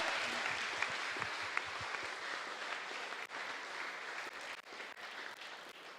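A church congregation applauds at a fiftieth wedding anniversary celebration, steady crowd clapping that holds at an even level throughout, with a few brief dips and scattered louder claps.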